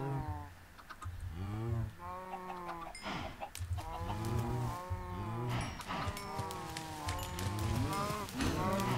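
Cows in Minecraft moo repeatedly in a steady overlapping chorus, loud and close, with chickens clucking among them in a crowded farm pen.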